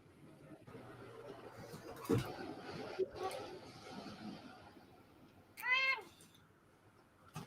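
A single clear cat meow rings out near the end, above quiet background noise and a couple of soft knocks earlier.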